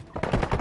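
Rapid gunfire from the Warzone video game, a short close burst of several quick shots in a row with no talk over it.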